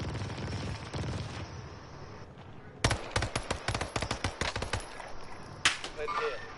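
Video game gunfire in a combat session: a rapid string of sharp shots opens near the three-second mark, followed by a later burst. Louder background noise comes before them, and a voice is audible under the shooting.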